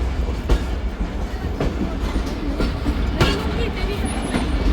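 Tezgam express train arriving at Nawabshah railway station in Pakistan, with a steady loud rumble of rolling cars and periodic clacks of wheels over rail joints, close by and continuous, with no talking.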